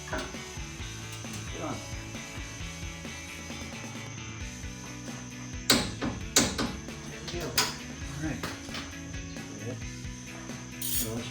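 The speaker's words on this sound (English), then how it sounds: "I got a short 17mm. On my torque wrench." Torque wrench with a short 17mm socket being worked on a Toyota Tacoma strut install, giving rapid ratcheting clicks with some louder clunks partway through, alongside a person talking.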